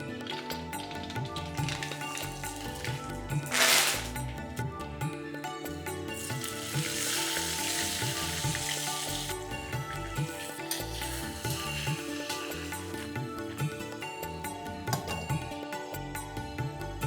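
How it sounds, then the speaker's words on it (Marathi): Spices tempering in hot oil in a kadhai for stuffed brinjal make a steady, moderately loud sizzle and crackle, with a brief sharp hiss near four seconds and light clinks of utensils over a busy kitchen background. "लगेच आपण फोडणी घालूया."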